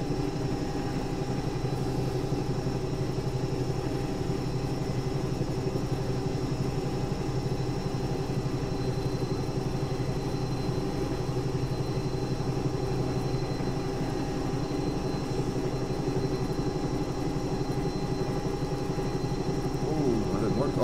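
A Bell 222 air ambulance helicopter in the X-Plane 11 flight simulator drones with a steady, loud turbine and rotor hum throughout its liftoff, with voices talking over it.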